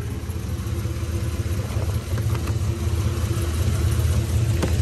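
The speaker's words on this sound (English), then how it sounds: "I think we got an exhaust leak down there at the collector." A Chevrolet Silverado truck with a 6.0 engine swap idles with a rough, steady rumble and faint ticking puffs from an exhaust leak at the collector, close and continuous, no voices.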